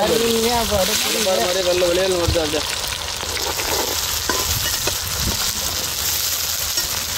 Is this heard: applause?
no